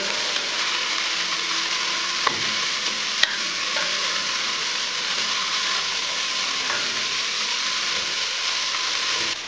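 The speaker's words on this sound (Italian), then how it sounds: "vado ad aggiungere il sedano, la cipolla e la carota e faccio soffriggere" Celery, onion and carrot sautéing in a pan for a rabbit cacciatora, a bright continuous sizzle that holds steady throughout, with a couple of faint clicks and no voices.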